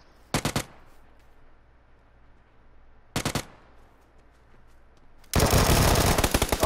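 Video game gunfire: two short, loud bursts of rapid shots separated by quiet, then a sustained, dense stream of automatic fire running to the end.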